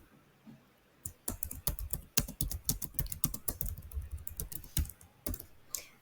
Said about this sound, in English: So type your question here